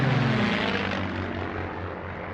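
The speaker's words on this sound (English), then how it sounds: "The Lockheed P-38 was an extraordinary airplane." A Lockheed P-38 twin-engine fighter airplane flies with a loud, steady propeller drone that holds evenly throughout, with no voices heard.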